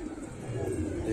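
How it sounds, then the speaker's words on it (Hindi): Pigeons kept as pet birds coo in low, throaty bursts close by, a soft rolling murmur lasting about a second with a voice faintly present. "ये है कबूतर।"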